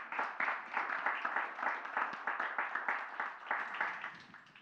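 Clapping from an audience at a talk on the future of fiscal and monetary policy, a faint, even patter of many hands that runs steadily throughout with slight swells.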